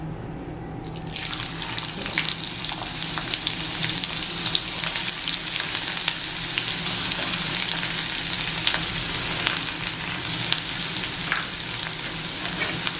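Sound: onion frying in oil in a pan

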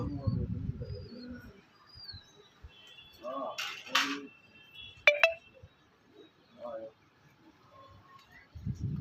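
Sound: pigeons cooing while landing

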